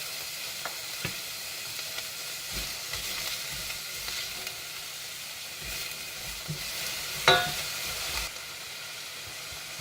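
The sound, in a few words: onions frying in olive oil in a saucepan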